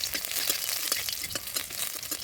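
Fried snakehead (lata) fish added to a potato and greens curry for tempering, giving a steady, fairly faint crackling sizzle in the pan with scattered small pops throughout.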